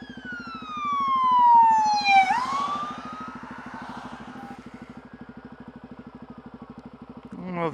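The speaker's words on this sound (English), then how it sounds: "Ambulance shot by" A loud ambulance siren wails and drops sharply in pitch as it speeds past, then fades while a motorcycle engine idles steadily nearby.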